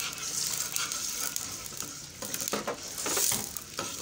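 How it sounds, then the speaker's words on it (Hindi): Onions sizzle steadily in hot oil in a pan for beef karahi, a continuous frying hiss with occasional stirring scrapes, close and fairly loud, no talk. "साथ हम इसमें अपनी ये प्याज डाल दूंगी"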